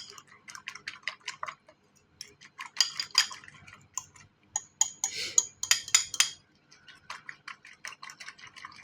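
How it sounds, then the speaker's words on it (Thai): Rapid clicking taps of a fork whisking eggs against a bowl, coming in quick rhythmic bursts with brief pauses between. "เจียวจนไข่แดงแตกนะครับ"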